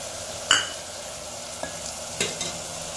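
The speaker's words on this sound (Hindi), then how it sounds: "अच्छे से गोश्त को हम भूनेंगे। गोश्त हमारा अच्छे से भून गया है। अब हम इसमें टमाटर डाल देंगे" Mutton frying in a pot with tomatoes as a spoon stirs it, a soft sizzle underneath punctuated by several sharp scrapes and clinks against the pot, close and without talk.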